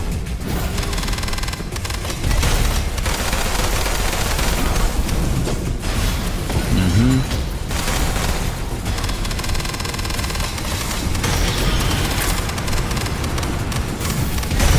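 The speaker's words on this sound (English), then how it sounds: "the rocket launcher is incredibly useful for dealing with those little guys" Video game combat fills the scene with rocket launcher blasts and rapid gunfire, a dense, loud, continuous barrage of booms and shots with no voice over it.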